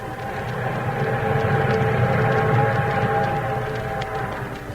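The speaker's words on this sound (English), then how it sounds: "Meanwhile, the eastbound train thundered on." Eastbound train thundering along as a 1938 radio drama sound effect, a steady, heavy rumble with a droning hum that swells slightly in the middle, continuous and without voices.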